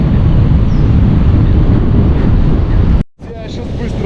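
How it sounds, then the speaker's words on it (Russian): Strong outdoor wind buffets the microphone in a loud, steady roar for about three seconds, then cuts out briefly before rising again more softly. "так тут ветер начался"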